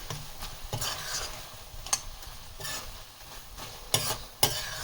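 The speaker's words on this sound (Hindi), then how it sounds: "क्रीम को भी हम सोया भुर्जी में अच्छे से मिक्स करेंगे" Cream being stirred into soya bhurji in a hot pan: a spoon scrapes and clatters in irregular strokes over a constant soft sizzle, with no voices.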